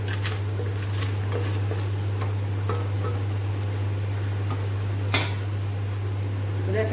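A spoon stirs turmeric into hot oil and ghee for a masala khichdi tempering, giving a soft steady sizzle with an occasional light clink against the pan under a constant low hum.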